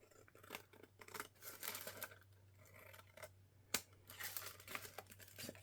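Scissors snipping paper during mixed media crafting, a run of quick irregular crisp cuts and rustles close up, with one sharper snap partway through and no speech.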